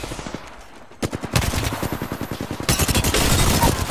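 Rapid automatic gunfire in a first-person shooter, bursts of close, loud shots starting after a brief lull and building into a dense, continuous barrage.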